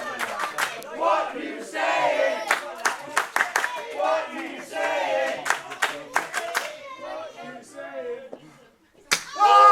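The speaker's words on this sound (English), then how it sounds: "After the onslaught he's been suffering from those chops." Sharp chest chops land during a pro wrestling match between Harrison Bennett and Brendan White: a run of loud, crisp slaps spread across the clip over a roaring, cheering arena crowd, with a final hard smack at the end.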